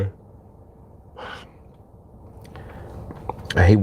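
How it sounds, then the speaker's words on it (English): A man yawns close to the microphone during a live market commentary stream, with breathy intakes building into a louder, drawn-out yawn at the end. "I hate when that yawn comes."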